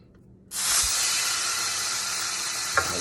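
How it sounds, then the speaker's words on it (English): A steak drops into a fully heated frying pan and bursts into a loud, sudden sear that holds as a steady close hiss, with one small clink near the end. "once your frying pan is completely hot, you want to take the steak and put it on each side for 2 minutes"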